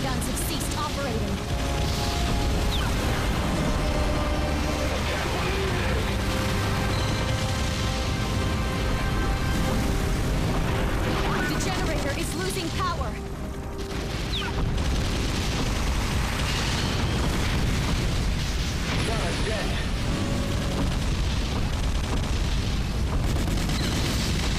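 Generators exploding in a Godzilla video game, a dense, continuous roar of booms and rumbling blasts that stays loud throughout, with a brief dip midway.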